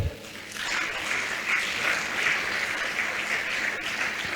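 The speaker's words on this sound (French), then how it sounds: "Je pensais que vous alliez acclamer." An audience at a tax civics training event led by an archbishop breaks into loud, sustained applause, a dense wash of clapping that swells and holds steady throughout.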